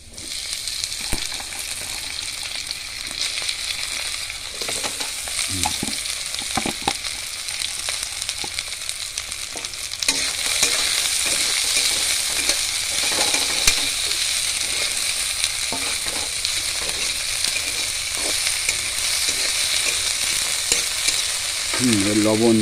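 Vegetables frying in a pan while being stirred, a loud continuous sizzle with scraping and stirring strokes throughout, close and steady, intensifying partway through.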